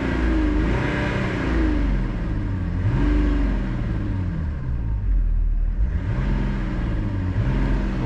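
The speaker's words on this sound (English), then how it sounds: "that is how this 6-cylinder engine sounds." A BMW E90 330d 231 hp six-cylinder diesel engine revs up repeatedly, rising and falling in pitch over a deep idling rumble, close and loud.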